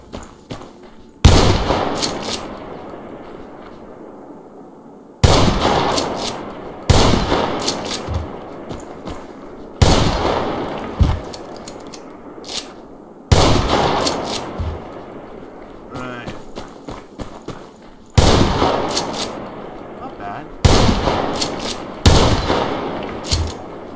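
A Remington gun fired at a shooting range in the video game Survarium, loud close single shots spaced a few seconds apart, each with a sharp crack and decaying echo, some in quick pairs.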